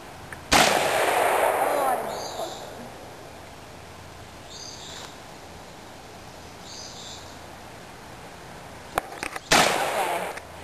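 Two shotgun blasts, a 20 gauge Remington 870 pump and a 12 gauge Browning SX3 semi-auto, fired outdoors: one loud booming shot rings out with a long decaying tail, then after a pause a second close, sharp blast follows.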